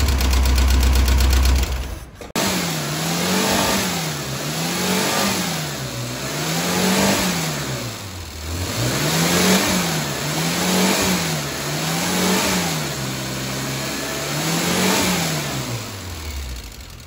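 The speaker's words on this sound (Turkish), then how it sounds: "arabamız marşı okey, yarım marşı alıyor" A Murat 124 car engine starts with a brief crank, then runs loudly nearby, revving up and down in a steady repeating wave of rising and falling pitch.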